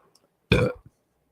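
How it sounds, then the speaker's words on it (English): A single loud, close burp right into a microphone, a short throaty belch with a small gulp after it in an otherwise quiet room. "did I just burp into the mic?"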